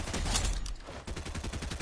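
Rapid bursts of automatic gunfire in the battle-royale game Fortnite during a squads match, loud and dense, with a brief dip midway before the shots resume in a steady rattling rhythm.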